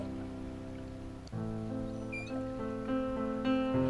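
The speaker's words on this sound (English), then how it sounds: "That squeaking sound you just heard was the manatees communicating with each other." Manatees make high, thin squeaks and a rising chirp over a steady low hum, soft and muffled underwater, with no voices.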